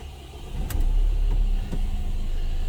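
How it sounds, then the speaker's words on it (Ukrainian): An Opel Movano L1H van with 190,000 km on it starts up: a brief starter crank, then the engine catches and settles into a steady low idle rumble, heard close with no talk. "Автомобіль заводимо."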